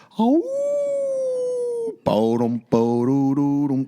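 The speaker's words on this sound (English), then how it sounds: "Because when you heard that wolf howl," One long, steady wolf howl rising to a sustained pitch, followed by two shorter wavering howls, loud and close with brief pauses between, used as a pro wrestling entrance theme.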